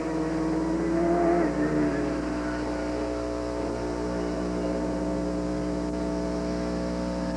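A fully race-prepared Austin Mini on racing slicks, Class B modified, drives a slalom course, its engine a steady, moderately distant drone that swells briefly early on before settling into an even hum.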